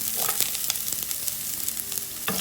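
Onion and garlic frying in hot oil for a prawn and okra dish, giving a steady broadband sizzle with intermittent crackles and spatters, close and fairly loud with no voices.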